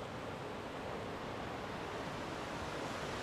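Cold water at an outdoor bathing spot in Masate rushes steadily and loudly, a dense, unbroken wash of noise with no voices over it.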